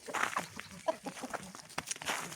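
Chickens and a white rooster cluck and stir inside a small barn shed on a cold day, a steady run of short, near calls and scratchy movement.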